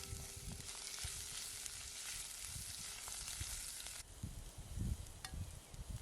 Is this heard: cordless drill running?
no